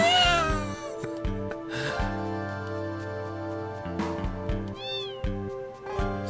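A cat meows repeatedly over the looping background music of the PS1 game Final Fantasy VIII, producing several clear, drawn-out cries with no talking.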